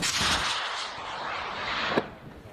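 M3E1 MAAWS recoilless rifle firing on a battlefield test range: a loud blast with a long rushing roar that fades, then a sharp crack near the end.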